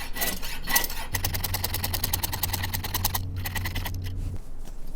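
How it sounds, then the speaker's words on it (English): A jeweler's saw blade cuts into a signet ring, giving a quick run of sharp, rhythmic rasping strokes up close that stop after a few seconds and leave a short pause and a few scrapes. "I'm being careful not to catch my finger on that blade because on the downstroke that hurts."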